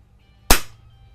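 A firearm sear trips during a trigger pull gauge test, giving a single sharp metallic snap that decays quickly in an otherwise quiet space.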